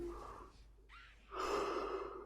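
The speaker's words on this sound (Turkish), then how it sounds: "Öy, esnedim." A person gives a close, drawn-out yawn while playing Arena of Valor on a phone after hours of gaming, with a sharp inhale, a brief pause, then a long breathy exhale.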